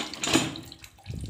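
Water pouring from a hand pump, a short splashing gush that swells, dips, then picks up again, close and fairly loud with no voices.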